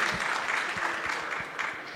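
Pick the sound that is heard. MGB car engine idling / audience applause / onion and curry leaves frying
audience applause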